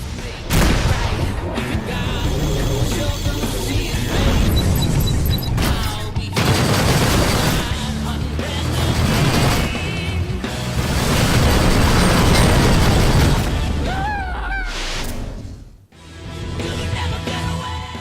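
Dense space-combat game din in Rebel Galaxy Outlaw: continuous loud missile explosions, booming blasts and rapid gunfire bursts layered over each other, with a brief lull near the end before the firing resumes.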